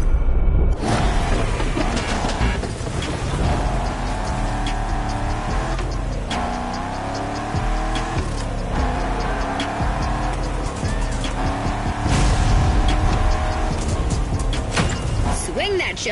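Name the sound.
car drifting downhill in video game The Crew Motorfest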